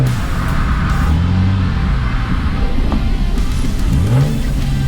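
A car with a mini spool differential drives on a race track. Its engine drones loudly and steadily throughout, and the revs rise and fall a few times as it accelerates.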